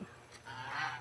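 A goose honks once, faintly and at a distance, a short nasal call rising out of low background noise near the end of a brief moment.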